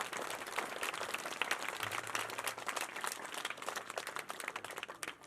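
An audience at an annual school function breaks into applause, a broad wash of many hands clapping continuously, somewhat distant and even in level throughout.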